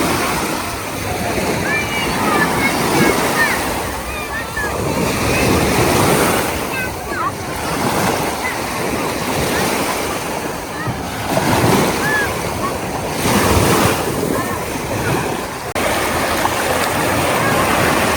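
Steady rush of Black Sea surf washing onto the beach at Mamaia Nord, Constanța, broad and continuous with gentle swells, wind noise on the mic and faint voices in the background.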